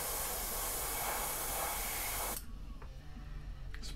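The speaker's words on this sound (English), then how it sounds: "spray them around the edge of the stencil" An airbrush sprays paint around a stencil on a custom rainbow trout glide bait fishing lure, giving a steady close hiss for about two seconds that cuts off abruptly, followed by a few faint taps.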